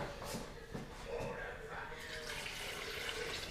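Water is poured from a prepared litre over 250 g of almonds for homemade almond milk, making a short, close splashing gush that carries on throughout; a voice is present as well.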